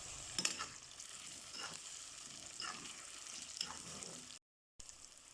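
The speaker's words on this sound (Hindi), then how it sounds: "अब इसमें सब्ज़ मिर्चें डालकर इसको मज़ीद 2 मिनट और फ्राई करेंगे।" Sliced onions and green chillies sizzle quietly in hot oil while being stirred, a soft continuous crackle with scraping clicks and a brief silent gap near the end.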